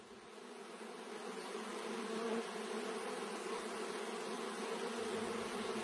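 A dense, steady buzz of many honeybees inside a queen-rearing hive, continuous and close, rising slightly at the start and holding even throughout.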